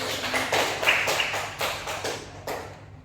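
Students in a classroom clap during a history lesson, a sparse handful of sharp, close claps in an uneven rhythm that quickly thins out and stops, with a bit of room noise beneath.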